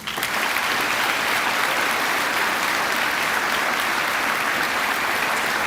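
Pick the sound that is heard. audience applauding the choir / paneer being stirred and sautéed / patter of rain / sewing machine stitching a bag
audience applauding the choir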